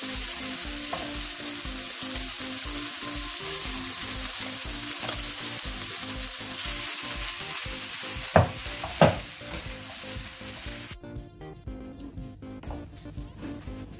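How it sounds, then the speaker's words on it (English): Potatoes are stirred into a hot frying pan of spiced vada filling, with a continuous loud sizzle and a spoon scraping rhythmically against the pan, and a couple of sharper knocks near the end. "And now I'll stir it."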